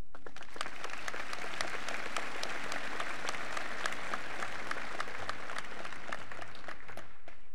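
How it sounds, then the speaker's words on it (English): A high school graduation crowd applauds invited guests with dense, continuous clapping, a few sharp claps popping out of the steady roar, sustained throughout before easing slightly at the end. "Please honor these guests with your applause."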